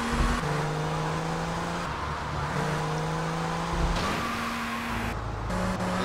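A car's engine drones steadily in GTA Vice City, its pitch stepping up through gear shifts and revving, loud and close with no talk over it.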